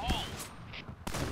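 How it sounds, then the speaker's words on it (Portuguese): Gunfire in the online shooter Point Blank, a few sharp shots and bursts in a busy game mix, one loud crack near the end, with a voice speaking partly over it. "O cara atirando."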